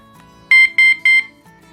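Electric bike alarm lock chirping three short, loud, shrill beeps in even succession at close range, with faint room noise between them.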